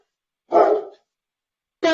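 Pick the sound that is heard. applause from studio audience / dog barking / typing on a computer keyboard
dog barking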